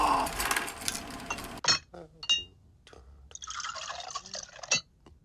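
Water pours into a glass in a Wallace and Gromit stop-motion scene, a near bubbling, dripping fill with a few clinks, broken by short pauses and heard alongside talk.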